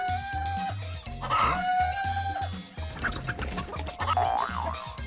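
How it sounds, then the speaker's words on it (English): Game-style chicken clucks and squawks from a chicken-herding minigame in The Kung Fu for PlayStation 2, repeated close, loud clucks over a bouncy electronic music loop. "You basically chuck chickens into the pen while avoiding other chickens."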